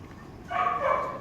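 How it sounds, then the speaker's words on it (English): Dogs in a kennel whine and cry in the distance, one short, faint plaintive call rising and falling, under low room noise. "I hear them in the background crying, barking."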